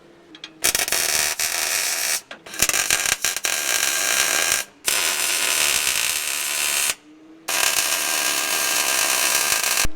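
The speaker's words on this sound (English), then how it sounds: "So I go to start welding" Welding in a workshop, long loud bursts of harsh crackling buzz separated by brief silent gaps, close and continuous during each run.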